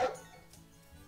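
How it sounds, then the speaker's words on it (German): A dog in the farming game Story of Seasons: Pioneers of Olive Town gives a single short bark at the start, followed by a quiet background. "Wuff, wuff."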